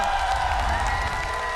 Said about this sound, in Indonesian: So, MPL Arena, mana tepuk tangannya?